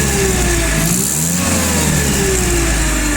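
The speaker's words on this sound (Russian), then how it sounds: "Так отзывается на газ." A two-ton petrol forklift with a carbureted inline-four engine revs up from a smooth idle, the pitch rising and falling once before settling back, loud and close with no talk.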